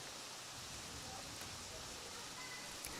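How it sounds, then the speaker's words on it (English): Faint steady hiss of rain falling during an outdoor high school baseball game, a soft even wash of noise with no distinct drops or voices. "That is not static that you hear. That is still rain that is coming."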